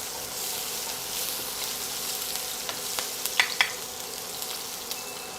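Chopped green chillies sizzle in masala for a samosa filling, a steady soft frying hiss with occasional small pops and stirring scrapes, close by and without talk.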